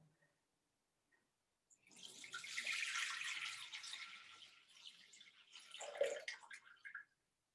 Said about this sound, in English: I'm adding some water.